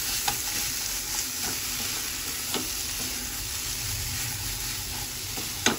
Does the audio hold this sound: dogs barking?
no